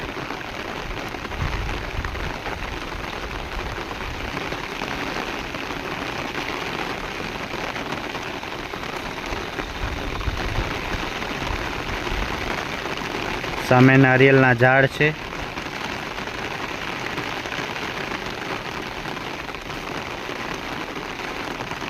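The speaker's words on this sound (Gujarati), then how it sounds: "ફૂલ વરસાદ" Heavy rain pours steadily and densely throughout, with a voice speaking briefly partway through.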